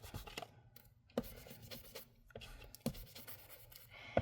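A blending brush dabbing and swirling Distress Ink onto white cardstock, making soft, close scratchy strokes in an uneven rhythm with a few sharper taps.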